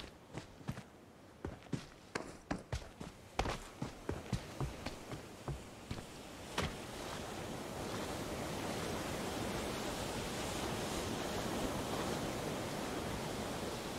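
Water in PUBG Mobile gameplay: a run of sharp footstep-like taps and splashes gives way to a continuous loud rushing wash of water that carries on to the end.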